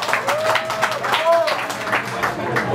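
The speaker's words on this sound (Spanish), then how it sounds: "Fuerte el aplauso para Edgar" An audience applauds for Edgar at a karaoke show, a scattered run of claps that stays steady throughout, with voices talking over it and brief whistle-like tones.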